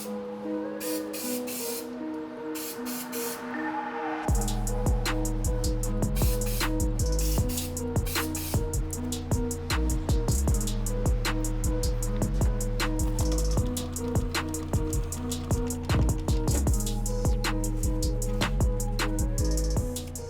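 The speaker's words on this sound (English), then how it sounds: "We're gonna be spray gluing the foam onto the bottom liner." Sharp, repeated hissing bursts of spray glue applied to foam on a sneaker liner come in quick irregular pulses over a steady machine-like drone, loud and close with no talking.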